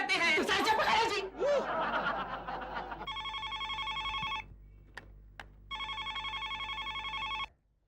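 A mobile phone rings with two bursts of an electronic tone, loud and near, after a stretch of laughter and chuckling.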